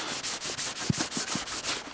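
A new Scotch-Brite pad scrubs an aluminium wheel rim in quick, steady back-and-forth strokes, a soft rhythmic abrasive rasp that is close and fairly quiet.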